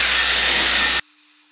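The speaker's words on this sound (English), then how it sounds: "if you're trying to blow dry your hair, whether you're using this tool or any kind of blow dryer with a brush" A Dyson Airwrap styler blow-dries hair with a loud, steady, close rush of air that cuts off abruptly after about a second, leaving only a faint hum.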